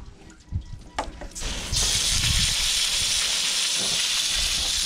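After a few clanks and knocks, a strong spray of water starts and hisses steadily, rinsing an anchor chain treated with oxalic acid aboard a boat.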